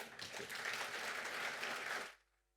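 A conference hall audience applauds after the opening speech of a public health meeting, a dense, even patter of many hands at moderate distance that builds quickly, holds for about two seconds, then stops abruptly.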